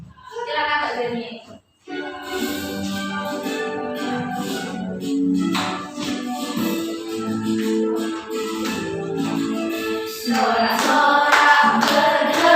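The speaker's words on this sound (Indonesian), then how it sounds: "Maka kita nanti anak-anak nyanyinya sambil tepuk tangan ya." Children in an Indonesian classroom clap their hands along while singing a song together, steady rhythmic claps mixed with young voices, fairly close and continuous.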